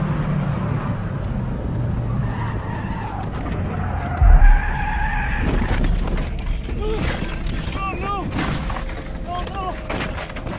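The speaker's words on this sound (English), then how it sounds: "He was left skidding helplessly sideways towards the edge of a massive drop-off" Tyres screech and skid on a car sliding sideways just after leaving a tunnel, heard loud and close from the dashcam over constant road rumble, with a thump partway through and continued squealing afterward.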